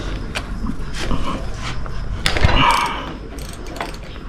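A ratchet wrench loosening a 17mm bolt on a 1995 Toyota Tacoma 2.7L four-cylinder engine during a rebuild, giving short bursts of clicking amid handling noise in a workshop, with no voices.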